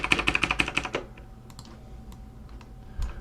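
Quick bursts of keystrokes on a computer keyboard, a rapid run of close, crisp clicks for about a second, then a few scattered, fainter taps.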